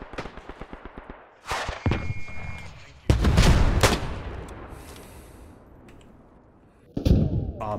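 A grenade blast in the World War I shooter Beyond the Wire: rapid rifle and machine-gun fire, then a sudden loud close explosion that rumbles away, with more sharp shots and another burst near the end.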